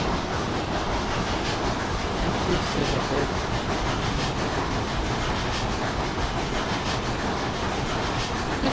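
A steam locomotive in the game Railroads Online starts moving at full regulator, a steady broadband rumble and hiss of rolling train noise with faint rhythmic clatter, continuous and fairly loud throughout.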